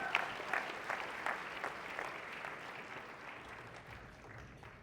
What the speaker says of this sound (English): One more round of applause for that.